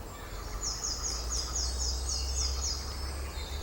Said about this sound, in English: Wonderful to hear all the birds, and here we are in spring with all the foliage,